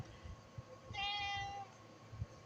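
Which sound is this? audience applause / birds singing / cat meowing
cat meowing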